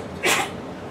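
Single sneeze during a church service in Saint Petersburg, Russia: one short, sharp burst rises briefly over a faint, hissy room background, then fades.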